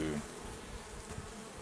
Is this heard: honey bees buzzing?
yes